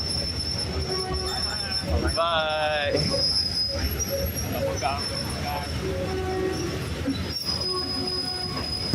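A train rolls across the River Kwai bridge in Kanchanaburi, Thailand, its wheels squealing in loud, sustained high-pitched tones over a continuous rumble of rail cars, with a voice talking over it.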